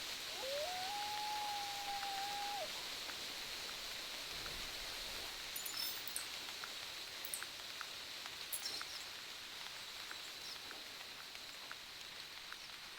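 Soft, steady rain hisses across the landscape in the hunting game The Hunter Classic on Timbergold Trails. A faint drawn-out tonal call rises in the distance early on, and a few scattered ticks sit over the wash of rain.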